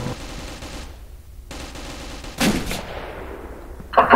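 Machine-gun fire sounds in a Counter-Strike match, with two short bursts of shots close by around the middle and another burst at the end over a low game background. No one talks.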